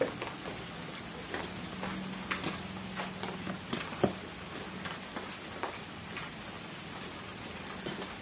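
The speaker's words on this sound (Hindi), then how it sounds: "बारिश का आवाज भी आ रहा है शायद" Steady rain falls and patters on a surface outdoors during a home meal of rice and curries, with scattered sharper drops striking close by throughout.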